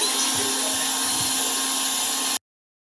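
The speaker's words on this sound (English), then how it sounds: "I don't want to buy a buffer, but I do have a drill, so that should work." Power drill fitted as a buffer polishing a painted snowboard, a steady high whirring motor whine at close range that cuts off abruptly near the end.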